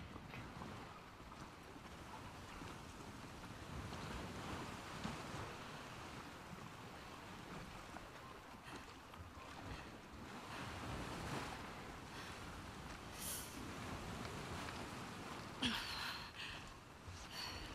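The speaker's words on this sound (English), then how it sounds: "this is the boat at the ending screen" Boat riding ocean waves on the ending screen of The Last of Us Part 2, a steady wash of surf and wind noise that holds at an even level throughout, with no talk.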